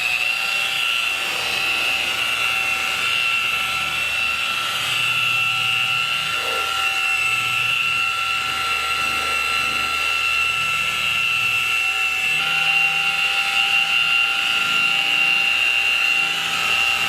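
A dual action orbital polisher buffing clear coat on a Mazda Miata whirs steadily with a high, sustained motor whine and a faint buzzing hum, running continuously at close range without talk.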